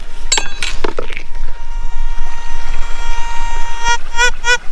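Gravel and rocks clink and rattle in a gold pan, with sharp close glassy clinks in bursts at the start and end and a steady ringing tone between.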